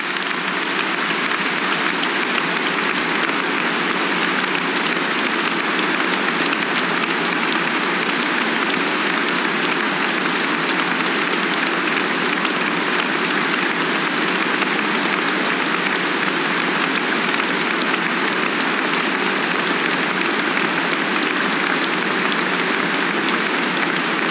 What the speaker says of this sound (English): leading the applause for those two so fondly remembered men